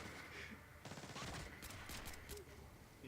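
Gunshots in the stealth game Splinter Cell Blacklist: a quiet, muffled volley of sharp shots starts about a second in, faint and low in level, with occasional talking around it.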